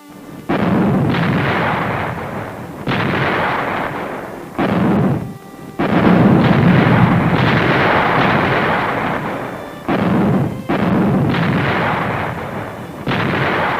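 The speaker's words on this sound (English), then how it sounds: "As mortar fire intensified, Marines advanced into close combat." Mortar fire in 1945 Okinawa battle footage, a dense run of loud, booming blasts and rumbling bursts that rise and fall in repeated waves, with no talk.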